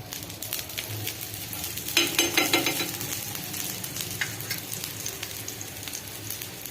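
A methi paratha fries in oil on a pan with a close, continuous sizzle and crackle that flares louder for a moment before settling back to a steady fry.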